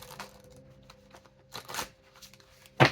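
Oracle cards are shuffled in soft, quiet riffling bursts that rise and fade, ending with one sharp, louder flutter of cards up close.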